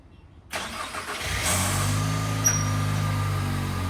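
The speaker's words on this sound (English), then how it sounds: "You guys heard a high-pitched, I don't know what, and a little rattle when it started up. Again, this is a cold start." A 2025 Toyota Tacoma cold-starting by remote: a brief crank at about half a second settles into a steady idle with a faint high-pitched whine and a light rattle, heard up close with no talking.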